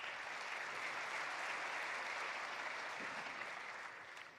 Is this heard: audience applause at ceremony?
yes